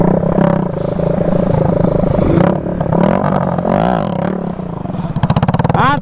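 Bajaj CT 100 motorcycle engine revving hard under repeated throttle during wheelie stunt training in Salem, loud and close, rising and falling with rattling mechanical clatter.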